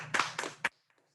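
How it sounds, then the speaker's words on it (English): A small audience gives the chefs a short, scattered round of clapping at an evening charcuterie and cheese board event. It comes in a few quick bursts, then fades to near silence. "We can give them a round of applause."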